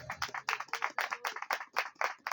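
A church congregation claps together, a dense, steady patter of many hands close by for a couple of seconds, with no voices over it.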